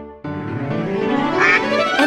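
Sung nursery rhyme with a voice imitating a mother duck's quacking, steady tonal singing over bouncy backing music that stays loud and continuous throughout.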